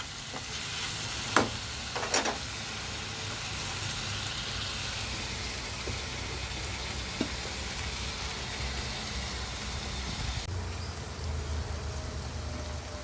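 Curry frying in a pan with salt added, a steady close sizzle and crackle with a couple of sharp utensil clinks near the start.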